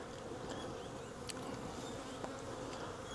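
A caught honey bee swarm buzzing inside a hive, a faint, steady, dense drone of many bees with a few brief louder passes of single bees close by.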